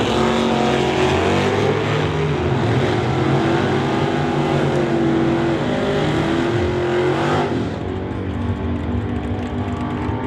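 A 1927 Ford Roadster race car roars hard down a drag strip, its engine loud and sustained as it accelerates, the pitch climbing steadily before dropping away near the end of the pass.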